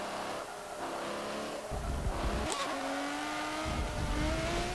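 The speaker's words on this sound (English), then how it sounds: "I'm in the retro F1 car" Retro F1 car engine in the racing game Forza Motorsport 7, a loud, continuous high-pitched racing engine rising and falling through gear changes and revving, with other cars close by.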